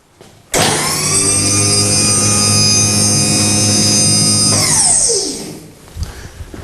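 A small drum rotator lifter raises its head with a loud, steady electric motor whine that starts abruptly, holds for about four seconds, then winds down with a falling pitch before faint clunks follow.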